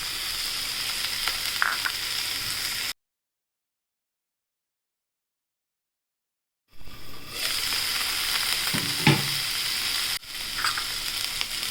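Carrots, peas and green chillies sautéing in a pan, a steady close sizzle with stirring scrapes, broken by a few seconds of complete silence before the frying resumes.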